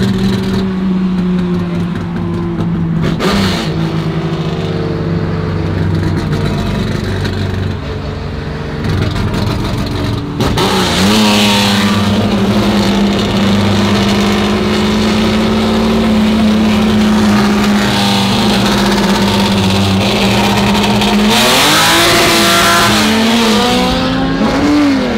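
A Ferrari with a faulty gearbox that struggles to engage gears revs loudly and repeatedly up close in Sorocaba, its engine note surging and falling, with a brief lull before sustained high revving and acceleration.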